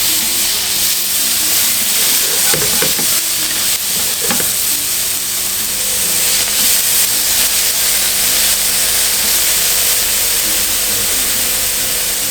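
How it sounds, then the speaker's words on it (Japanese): Paprika and mushrooms stir-fry over medium heat in a pan, a steady loud sizzle and hiss with a few scraping stirs early on. No voices are heard. "パプリカ、 中火で軽く炒めていきます。"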